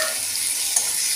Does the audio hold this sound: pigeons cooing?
no